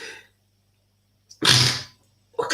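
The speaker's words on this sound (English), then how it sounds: "What kind of sneezing is this one now this evening?" A single sharp, loud sneeze bursts out after a brief breath intake, following a moment of silence, with the start of another breathy sound right at the end.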